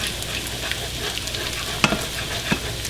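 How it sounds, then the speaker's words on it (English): Eggs are scrambled in a hot pan for chicken fried rice, giving a steady close sizzle with occasional scraping clinks of a utensil stirring them, and no voices. "just scramble them around just to break up those yolks"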